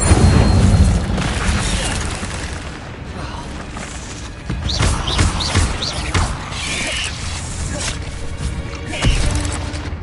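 Incendio fire spell cast in the game Hogwarts Legacy, a series of booming whooshes and bursts over a rumbling combat backdrop, with sharp whistling flares near the middle and a final burst toward the end.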